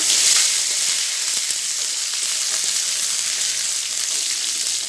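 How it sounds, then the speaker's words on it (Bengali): Garlic, onion, dried red chilli and five-spice seeds fry in hot oil with a dense, steady sizzle, loud and close with no voices over it. "রসুন একটু পেঁয়াজ ফোড়ন দিলাম।"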